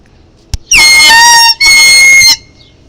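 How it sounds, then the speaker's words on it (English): A toy MLG-style air horn gives two loud, close blasts in quick succession, each about three quarters of a second long with a bright buzzy tone, preceded by a small click. "It's an MLG air horn."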